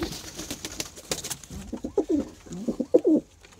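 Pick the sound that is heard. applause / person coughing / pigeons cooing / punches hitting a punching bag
pigeons cooing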